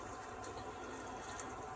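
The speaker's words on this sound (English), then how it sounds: "Now I want to fill this tank up with a good bit of water" Water running into an RV black tank during flushing: a faint, continuous rushing and gurgling of liquid pouring in, steady and without pauses.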